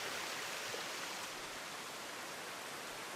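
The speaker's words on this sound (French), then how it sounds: "La cascade." A waterfall in the Loue valley gives off a faint, even, hissing rush of falling water, steady throughout with no other sounds.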